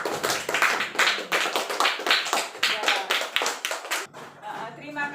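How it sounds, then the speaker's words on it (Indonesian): Classroom applause for a student group in an elementary school social studies lesson; a small group claps in distinct, rhythmic bursts close to the microphone, stopping abruptly before a brief quieter stretch with faint voices. "Beri tepuk tangan untuk kelompok 4."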